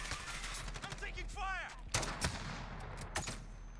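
Gunfire in the Call of Duty Modern Warfare video game sounds as a few sharp shots and bursts over a low game rumble, with brief whooshing effects between them.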